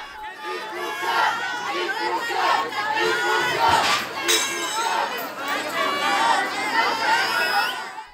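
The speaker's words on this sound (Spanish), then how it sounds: "En el tumulto hubo gritos, rechiflas y empujones." A dense crowd of aid applicants in Coyoacán erupts in a tumult of shouting, jeering and whistling, with overlapping voices yelling continuously and loudly, jostling noise and a sharp whistle-like burst in the middle.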